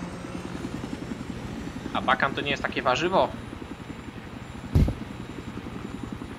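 A helicopter in the multiplayer video game Pole Bitwy 3 (Battlefield 3) gives a steady, fast rotor chop under the whole stretch, with someone talking over it and a short sharp burst near the end.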